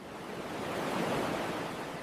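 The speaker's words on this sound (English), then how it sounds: "I can hear the waves from here." Ocean surf washes steadily in the background at a beach restaurant, a broad, continuous rushing roar with no voices.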